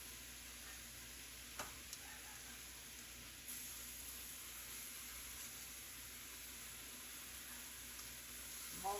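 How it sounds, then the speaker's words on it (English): Ground meat browns beside vegetables in a soup pot for shepherd's pie soup, making a steady, even sizzle with a couple of faint stirring knocks and no talking. "I've scooted over some of the vegetables to give some of this meat a little room to brown"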